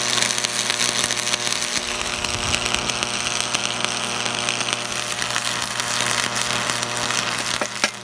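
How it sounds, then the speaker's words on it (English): Arc welding a tail bolt onto a steel winch skid plate, a steady loud crackling buzz that runs continuously with a low electrical hum beneath, no pauses and no talking. "now I'm ready to weld this in place"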